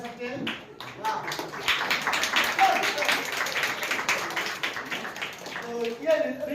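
A crowd of people clapping in appreciation for the women at a church gathering, dense sustained applause throughout with some voices mixed in.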